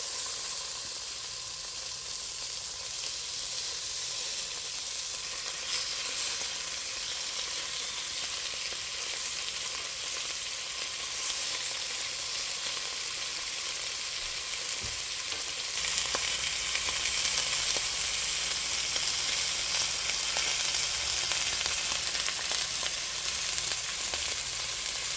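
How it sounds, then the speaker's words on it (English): Lamb searing in a pan over medium-high heat, a continuous broad sizzle lasting the whole stretch that grows slightly louder and denser partway through, with no talk over it. "Let's start by searing our lamb over medium-high heat."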